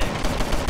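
Pistol fire from the top-down cop game LA Cops comes as a dense, loud run of overlapping shots and impacts in under a second, with no voice over it.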